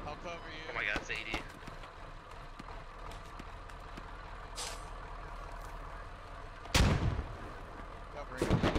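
Rapid gunfire and heavy booming blasts in a military shooter video game, with a loud close burst near the end, under players' voices calling to each other.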